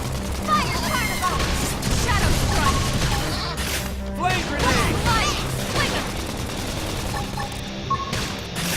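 In the Xenoblade X video game, a flame grenade attack sets off dense bursts of crashing, crackling battle effects with continuous combat clatter and game voices over the top.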